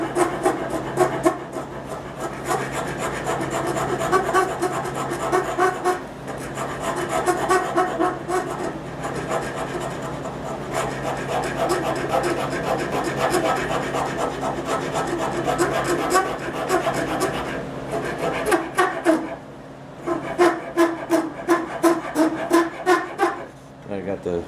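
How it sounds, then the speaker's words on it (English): A rasp shapes a wooden knee block for a cabriolet leg, steady rhythmic scraping strokes, close and loud, repeating for the whole stretch with brief pauses between passes. "the rasp does it, takes up of it real quick"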